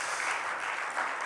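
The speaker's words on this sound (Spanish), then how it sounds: "Denle un aplauso al Señor." Brief burst of congregation applause at a church service, a dense steady patter of many hands clapping, moderately loud, with no voices on top.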